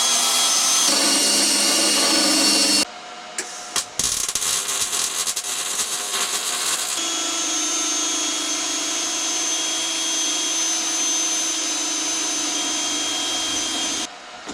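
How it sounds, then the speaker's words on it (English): Welding a brake linkage part for a dual Predator 212 go-kart, a loud steady crackling hiss that cuts out briefly, resumes with sputtering bursts, then settles into a long even buzz before stopping near the end. "So I'm going to weld one of these on one end to start with."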